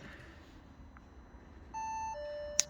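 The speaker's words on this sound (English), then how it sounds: "it's going to beep at me and going to whinge" A 2019 Audi A1 Sportback 1.0 TFSI sounds a dashboard warning: a quiet cabin, then a sustained electronic beep tone followed by a second higher tone and a short click.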